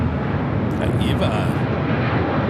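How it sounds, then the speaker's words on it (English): A Boeing 777-300ER airliner of Eva Air taking off from Los Angeles airport, bound for Taipei: a loud, steady engine roar held throughout, with brief radio chatter over it near the middle. "Eva Air Flight 5 taking off to Taipei on the 777-300ER."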